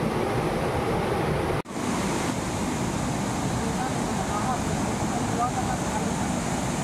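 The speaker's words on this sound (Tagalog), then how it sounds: "Lumakas na yung ulan mga ka-let's go." Heavy rain pours down during a flood near a swollen river, a loud, dense, steady hiss that cuts out for an instant before resuming unbroken.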